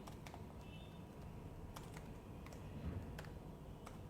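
Typing on a computer keyboard, a few faint scattered key clicks over a low steady background hum.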